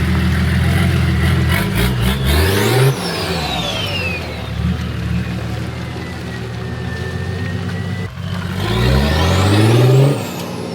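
A Nissan TD42 turbo diesel engine in a car revs up hard twice, heard from outside the car, its pitch climbing sharply with a whistling turbo spool, then drops back to a steady rumble between the revs.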